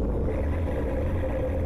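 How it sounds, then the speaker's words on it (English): A tractor engine in GTA 5 gives a steady, low rumbling drone that holds constant throughout, fairly close and with no talk over it. "I don't remember tractor making that noise."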